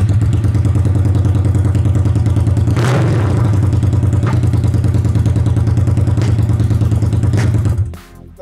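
Harley-Davidson motorcycle engine fitted with a new silencer, idling with a deep, steady loud rumble and a brief rev around the middle, continuous and close before cutting off near the end.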